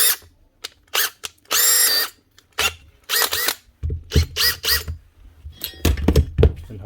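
A Makita DCH487 18-volt cordless drill whirring in short, repeated bursts, loud and close, with stops and clicks between runs and one longer sustained spin.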